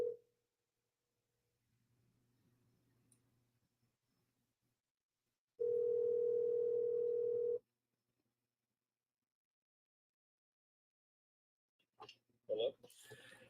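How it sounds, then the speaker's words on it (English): A telephone call-in tone for a sports radio show, a steady two-second beep that stands alone amid near silence, preceded by faint line noise and followed by brief bursts of sound. "I'm gonna reach out and get Coach Floyd on the phone with us now."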